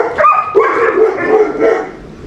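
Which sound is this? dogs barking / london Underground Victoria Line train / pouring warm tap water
dogs barking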